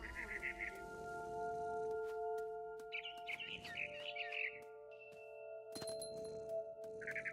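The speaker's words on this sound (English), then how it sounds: "Then I heard chirping outside my window. It was a barn swallow going back to her nest." A barn swallow chirps outside a window in the video game What Remains of Edith Finch, quick bursts of high twittering repeating in short phrases over a steady sustained musical drone, fairly quiet.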